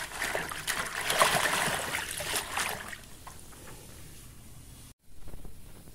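Yanang leaves are rinsed by hand in water, giving soft, close splashing and trickling that fades after a few seconds, then a brief silent break before a faint return.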